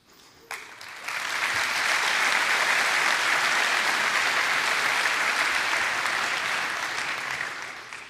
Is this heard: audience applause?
yes